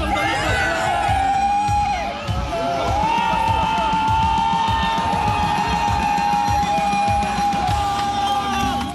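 Onlookers scream and yell as a man slides off a tall tower and drops toward water, a dense, loud crowd roar running continuously throughout, with steady tonal music layered over it.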